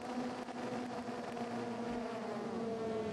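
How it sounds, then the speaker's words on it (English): Racing car engines howl together on the grid at Hockenheim as the race starts, a dense, sustained droning roar with steady engine tones and no voices over it. "Revs rise and away they go."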